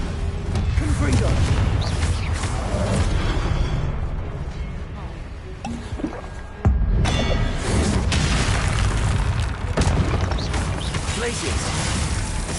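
Confringo spell explosions in the Hogwarts Legacy video game, loud booming blasts in a dense battle din with a sharp crack partway through, continuous and close, with voices over the action.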